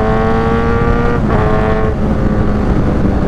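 A Kawasaki Z1000 motorcycle engine holds a loud, steady rev, then dips briefly as the quick-shifter clicks through an upshift and pulls strongly again. The engine is close and there is no talk.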